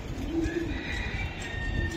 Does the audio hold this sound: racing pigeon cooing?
yes